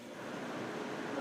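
A heater blower in a Land Rover 130 runs as a steady, fairly quiet broadband fan whoosh that holds constant for the whole moment, with no voices.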